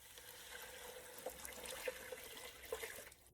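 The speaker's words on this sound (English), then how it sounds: "Now add in your water." Water poured into a pot of broccoli potato soup, a faint, steady splashing trickle with a few small gurgles, continuous and close.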